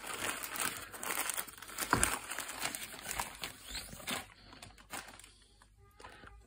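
Plastic bag crinkling and rustling up close, busy irregular crackles for several seconds, then tapering off into quieter scattered rustles.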